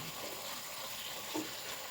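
Steady, faint sizzling of chicken frying in a pan over high heat, a continuous hiss with a brief stirring clatter near the end.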